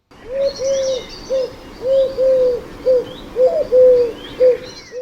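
A collared dove coos close by in repeated three-note phrases, soft and hollow, with faint chirps from other birds in the background.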